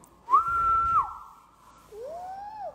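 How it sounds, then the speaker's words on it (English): A person whistles two clear notes close by, a steady held tone followed by a lower, rising-and-falling whistle after a short pause. "Can you whistle like this?"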